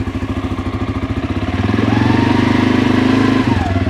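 A 2023 CFMOTO CForce 600 ATV engine idles with a steady, chugging pulse, then revs up for about two seconds in a smooth, rising drone before dropping back to idle, loud and close with no talk.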